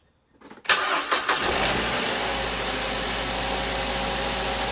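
A car engine cranks and catches after a moment of quiet, then settles into a steady, close idle rumble.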